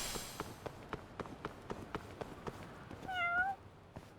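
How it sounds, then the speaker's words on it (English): A cat meows in a video game set in a city district, a short rising call near the end, after a run of steady tapping footsteps. "Did I hear a cat just now?"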